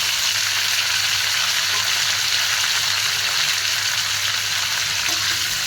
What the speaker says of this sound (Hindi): उसके बाद हम जीरा हमने डाल दिया और प्याज और टमाटर इकट्ठे डाल दिए।